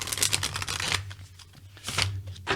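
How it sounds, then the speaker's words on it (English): Oracle cards drawn from a deck and shuffled, giving quick papery riffles and flicks in short bursts, close and fairly crisp, with brief pauses between them and no voices. "So I'm going to pull some cards,"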